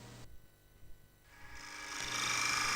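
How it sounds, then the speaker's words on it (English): Shear scraping a ridged wooden pole with a Robert Sorby multi-tip tool: a soft, steady scraping hiss that builds and grows louder toward the end, with no talk. "This pole has some ridging and tool marks that shear scraping can quickly improve."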